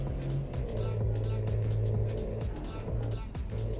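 Truck engine in a driving video game, a RAM 3500 mod, droning steadily with its pitch dropping and climbing again as it shifts up, loud and continuous, with game motor tones under a faint voice.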